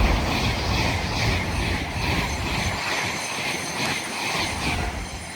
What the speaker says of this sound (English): It's also about to pass will be a Phantom West Coast service going from London Euston to Glasgow Central.